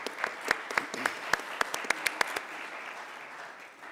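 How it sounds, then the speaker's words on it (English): Seminar audience gives a short round of applause, with a few distinct, sharp claps standing out near the microphone over softer clapping that tapers off. "Give these folks a round of applause."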